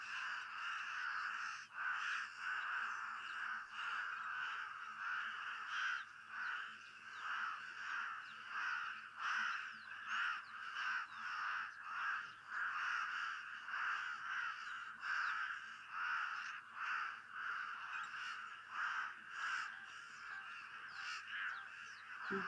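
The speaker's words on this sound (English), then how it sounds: "I wonder if there's Cape crows in and amongst the pied crows." Pied crows and Cape crows call at a waterhole in a steady chorus of overlapping harsh caws, repeating continuously at moderate distance with no voices.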